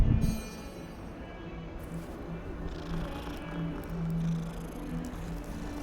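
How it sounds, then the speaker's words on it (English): Cat in the Hogwarts Legacy video game, purring steadily at close range with a faint meow, set against a low hum of game ambience and music. "Another cat."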